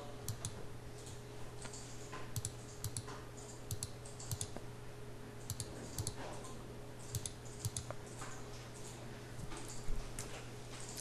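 Computer keyboard keys pressed during CAD machining software work, with faint, sparse clicks and short quick runs of taps over a low steady hum, no talking.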